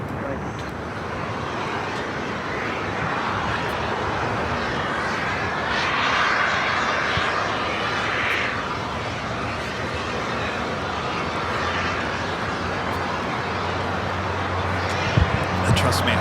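American Airlines flight 1526, a jet, takes off from runway 25 right at LAX, a steady broad engine roar holding at a constant level throughout, with radio voices talking over it.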